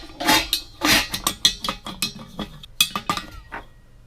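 Metal pot lids clink and clatter as they are lifted, moved and swapped over a cooktop, a rapid run of close, bright knocks and rattles that settles near the end.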